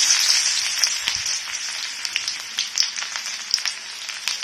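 Onions fry in a pan with cinnamon and cloves for vegetable fried rice, giving a close, steady sizzle with bright crackles and small pops throughout.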